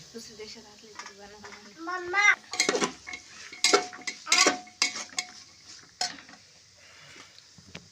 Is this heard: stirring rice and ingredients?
yes